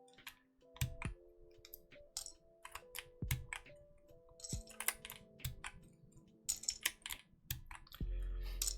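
Keystrokes on an Ellora65 mechanical keyboard clatter in quick irregular bursts, crisp close clicks, while soft background music plays underneath.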